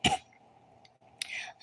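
A single short, soft cough or throat clear opens the moment, followed by quiet room tone and a faint breathy sound near the end.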